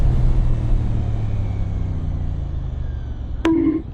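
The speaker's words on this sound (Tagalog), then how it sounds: "ganda ng tunog ni 450NK sa atin lalo" A 450NK motorcycle fitted with an SC Project slip-on exhaust rumbles at low idle on a city street, a steady deep engine drone close by, ending with a brief sharp burst of noise near the end.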